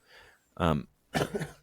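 A person sneezes nearby in two sharp, loud bursts separated by a short pause.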